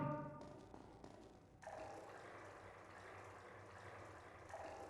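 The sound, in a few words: running water in the video game Prince of Persia: The Sands of Time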